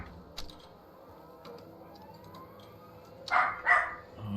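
Dogs bark in Silent Hill 2, with a sharp yelp early, faint scattered noises in between, and then two louder, closer barks or snarls near the end over a low, dark ambient hum.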